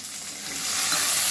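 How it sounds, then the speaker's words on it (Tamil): Steady, bright sizzling of eggplant frying in hot oil, growing slightly louder, with no voices. "கத்திரிக்காவை போடுறோம் ஒரு ரெண்டு நிமிஷம் எண்ணெயிலே இப்படியே வதக்கி"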